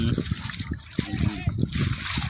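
People wade into a village stream, water splashing and sloshing around their legs in short bursts while voices talk over it nearby.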